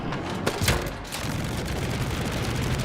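Gunfire in the video game Split Fiction comes as a dense, continuous burst of rapid shots and impacts, loud and close, with no clear talk over it.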